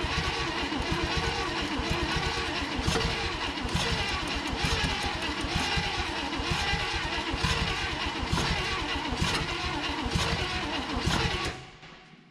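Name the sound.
1960 Chevrolet Impala engine cranking over unevenly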